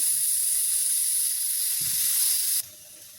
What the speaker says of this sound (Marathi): कुकरच्या चार शिट्टे झालेले आहेत